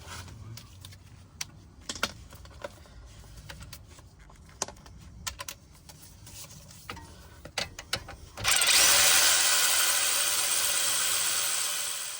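Intermittent clicks and ratcheting clatter of tools on metal while removing car front brake bolts, then a power tool whirs loudly and steadily near the end.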